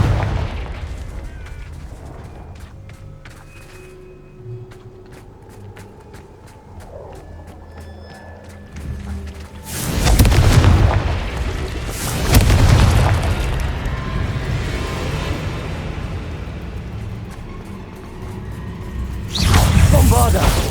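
Confringo and Bombarda spell blasts in the video game Hogwarts Legacy, three loud booming explosions a few seconds apart after a quieter stretch of game ambience and clinking effects.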